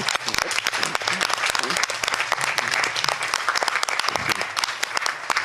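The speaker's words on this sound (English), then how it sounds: "I would like to give a warm round of applause to our new board members." Warm applause fills a community board monthly meeting room, many hands clapping loudly and steadily in a dense crackle for over five seconds, with no talk over it.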